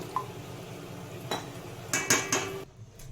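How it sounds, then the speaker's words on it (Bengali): A lid set onto a cooking pan in a kitchen, a few metallic clinks and clatters, the loudest cluster near the end, then quiet. "ঢাকা দিয়ে রেখে দিলাম 5 মিনিট, সিমে ঢাকা দিয়ে রেখে দিলাম।"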